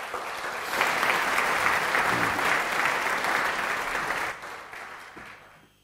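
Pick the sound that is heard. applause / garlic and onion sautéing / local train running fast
applause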